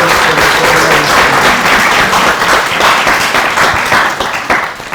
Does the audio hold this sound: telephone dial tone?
no